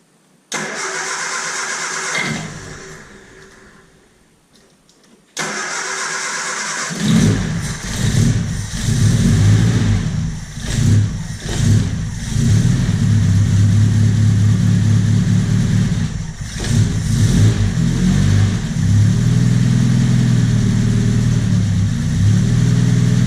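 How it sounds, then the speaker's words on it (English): A Triumph Spitfire engine with a Weber carburettor cranks briefly, pauses, then catches and fires up, running loudly with uneven revving blips and rough idling close by. "We're going to crank for a little and then I'll pump it and let it start up."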